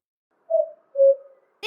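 Soft bird cooing from a children's nest-building adventure game featuring a fennec fox: two gentle, drawn-out coos in quick succession, clear and close, with a brief brighter sound cutting in at the very end.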